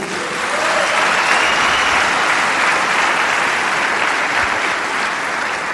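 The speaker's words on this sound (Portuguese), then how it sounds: "Vamos dar um aplauso a Jesus" Loud, sustained applause from a church congregation during a worship service, a thick continuous roar of many hands clapping with no talk over it.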